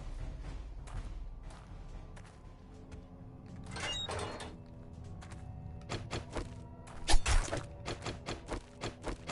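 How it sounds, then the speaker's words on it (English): Zombies bang on walls and doors in 7 Days to Die: muffled irregular thuds and knocks, some near and several distant, growing denser toward the end with a couple of louder heavy hits. "I'm hearing banging over there."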